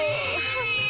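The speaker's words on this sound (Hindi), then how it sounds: "वो देखिए बच्चे की रोने की आवाज आ रही है।" An infant cries in a loud, close wail that fills the brief moment, strained and continuous.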